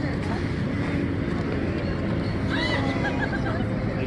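Donkeys on a farm let out a drawn-out, wavering bray midway through, rising over a constant rough outdoor din with voices in the background.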